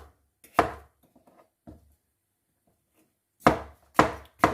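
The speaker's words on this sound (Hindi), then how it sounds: "अब यह ग्रीन वाली है, इसके भी छोटे पीसेस करके" Knife chopping a green vegetable into small pieces on a cutting board, a few sharp, close thuds spaced irregularly, then a quick run of three chops, with no talk.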